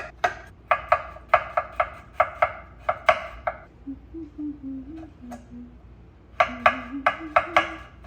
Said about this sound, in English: Yeah, I'm gonna cut.